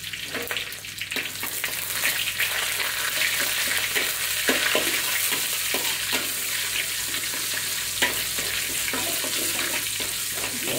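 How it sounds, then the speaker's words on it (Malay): Anchovies fry with dried chili, garlic, shallots and pounded ginger, giving a constant close sizzle in oil broken by intermittent stirring and scraping in the pan. "Ikan biris kita garing sekejap."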